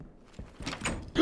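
A door sliding or swinging open in a tense first-person shooter game, a soft mechanical rumble building over about a second with a sharper thunk at the end, fairly close and alone.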